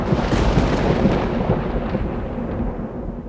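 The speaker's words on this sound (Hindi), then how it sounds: "लगता है कोई बहुत बड़ा तूफान आने वाला है।" Low, continuous rumbling thunder of an approaching storm, loud and sustained throughout, slowly easing toward the end, with no voices.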